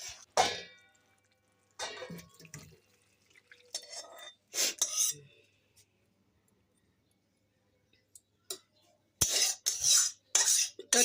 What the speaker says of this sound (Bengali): এখন ঢেলে দিচ্ছি এখন একটু আমি নেড়ে নেই নেড়ে নিয়ে তারপর ঢেলে দিচ্ছি